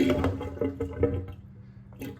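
Water gurgles and slurps as a bathroom lavatory sink drains through its overflow, a low, uneven sucking sound in bursts, close and fairly quiet.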